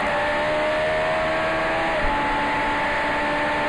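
A Mini racing car engine during a race, a steady, loud drone heard from inside the car that holds pitch with only a slight shift midway.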